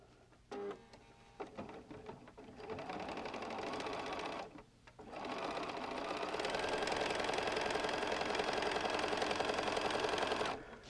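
A sewing machine stitches seams on a lined Christmas stocking, running in a short burst, pausing briefly, then whirring steadily and close for several seconds.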